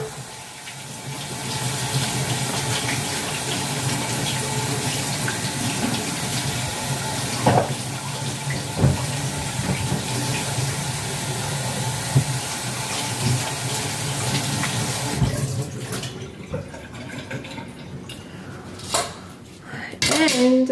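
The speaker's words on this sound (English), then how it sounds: "And next one I'm going to wash is capsicum." A capsicum is washed under a running kitchen tap: a steady hissing stream splashes into the sink for most of the time with occasional knocks, then the flow stops near the end and a few handling clatters follow.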